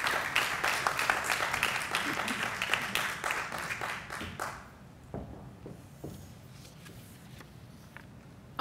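Audience applause at a school graduation ceremony, steady clapping from a crowd for about four seconds that then fades to a few scattered claps in a quiet hall.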